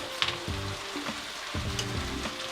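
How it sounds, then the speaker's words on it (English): Spaghetti goes into sautéed vegetables in a hot pan: a constant loud sizzle with a few bursts of rustling and shifting as the pasta drops in, close and without talk. "I'm gonna start to add some pasta into my veggies."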